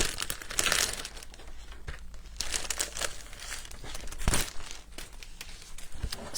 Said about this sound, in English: So you get a quarter of a pack of the paper, which I'll page through and show you